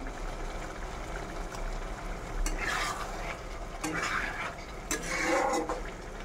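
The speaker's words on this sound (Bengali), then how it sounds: "দিয়ে হালকা করে নাড়িয়ে দিলাম" Fish curry is stirred in a pan with a spoon in a few slow, scraping strokes over a low simmering bubble, each stir rising in a soft swish before fading.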